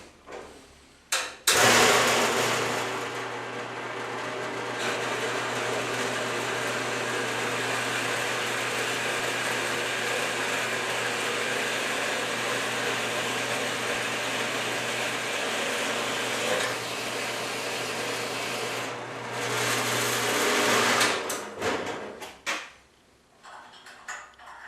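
A saw cuts steadily through a metal block for a tap block, trimming it to just over half an inch, a loud continuous grinding whine that runs about eighteen seconds before spinning down and stopping.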